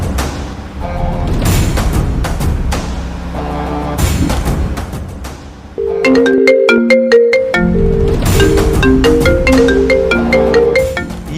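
A phone ringtone plays loudly and alone, a repeating electronic melody of bright tonal notes that runs through the whole stretch with a brief break in the middle, in a Hindi action film setting.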